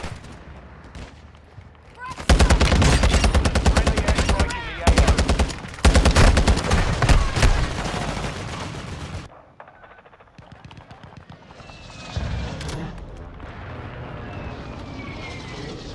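Rapid automatic gunfire and bursts from a Call of Duty Modern Warfare 2 match on PS5, loud dense volleys in two long stretches, then quieter battle noise with a sharp crack and distant rumble.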